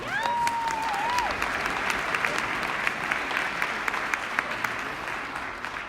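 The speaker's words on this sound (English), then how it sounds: "please give a round of applause." Lecture audience at a talk on hemp extract clinical studies giving a round of applause, dense even clapping that holds steady throughout, with a brief whistle near the start.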